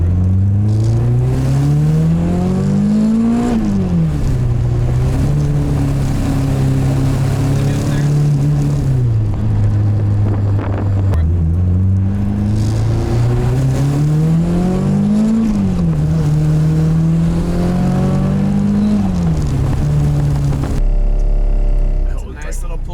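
K-swapped Nissan Cefiro engine during a tuning pull, revs rising steadily to a peak, dropping, then climbing again in a second long pull, loud and close, with voices underneath.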